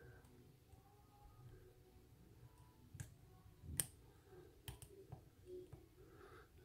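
Faint, scattered clicks of lock pins being picked in a stock union lock, a few small sharp ticks spread through a quiet, close background.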